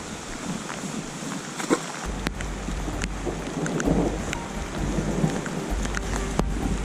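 Thunder rolls over a lake during a thunderstorm, a low continuous rumble with rain pattering steadily and water lapping nearby, loud and enveloping with no talking.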